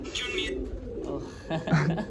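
Domestic pigeons coo in low, throaty bursts, loudest toward the end, with faint chirps and a voice talking in the background.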